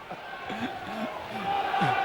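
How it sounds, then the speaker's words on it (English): Salford City Reds rugby league fans cheer and chant in a stadium during a 2005 match against St Helens. The crowd noise is a fairly distant, sustained roar with rising vocal calls, under commentary. "the City Reds fans always wanting to cheer their team"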